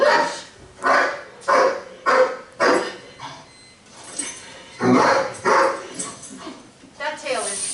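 A reactive dog on a leash barks in repeated sharp bursts during a behavior experiment, loud and close, with someone talking over and between the barks.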